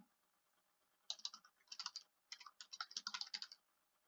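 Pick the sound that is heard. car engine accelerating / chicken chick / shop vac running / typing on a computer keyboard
typing on a computer keyboard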